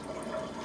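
A cup of water poured into a mixing bowl with milk for a cooking mix, a brief, fairly soft continuous splash heard on its own.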